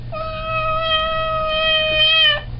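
A single long, steady cat meow, sustained and tonal with rich harmonics, close and fairly loud over a low background hum, from an unhappy cat.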